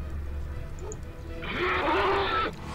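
A horse in Neverwinter Nights lets out a loud, rising whinny that lasts about a second, standing clear over a low game ambience before cutting off sharply.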